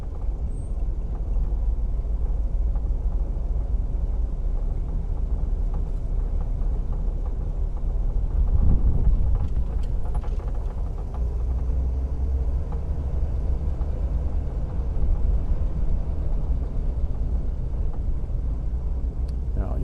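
A 1941 Buick Roadmaster Convertible cruising along, its engine giving a low, steady rumble throughout, with a slightly louder swell about halfway through.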